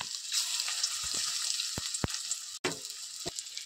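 Egg pitha frying in hot oil, a steady close sizzle with a few sharp crackles and pops spread through, no voices.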